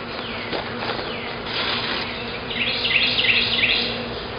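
Honeybees buzzing around an open hive during an inspection, a continuous close hum with rising buzzes of individual bees flying near, no talk.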